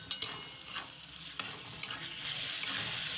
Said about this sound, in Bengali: আমরা এর সাথে টমেটো অ্যাড করে ভাজছি বাদামি রং করে।